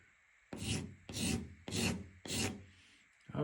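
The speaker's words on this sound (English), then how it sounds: "get your sheetrock mud on there and you try to get it all smooth" Drywall knife spreading sheetrock mud over a small wall hole, four close scraping strokes in an even rhythm, each a soft rasping sweep, with quiet gaps between.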